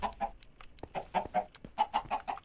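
Minecraft chickens cluck in short, quick bursts, a rapid series of faint, close clucks with no talking.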